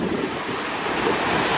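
Strong wind buffets the microphone on a beach at Bang Saree, mixed with the steady wash of surf, a dense continuous roar with no voices.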